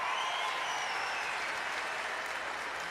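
German home crowd at a European men's all-around gymnastics final roaring and applauding as Nils Dunkel steps up to the pommel horse, a dense, steady wall of clapping and cheering with no break.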